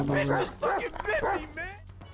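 Chop, a dog in the video game GTA 5, gives a few short barks and whimpering yips close up, mixed in with talk.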